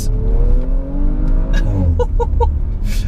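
A 2018 Audi RS4 accelerating hard, its engine a loud, close, rising drone through an 8-speed automatic gearbox, with a downshift partway through and a few quick clicks near the end.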